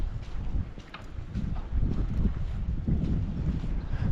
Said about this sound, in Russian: Здесь очень ветрено.